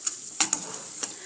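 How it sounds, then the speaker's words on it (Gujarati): Chillies and spices being stirred in hot oil in a pan, with a few short scraping strokes and a steady faint sizzle. The sound is close, quiet and brief, with no talking. "અને આ બધું આપણે મિક્સ કરી લઈશું"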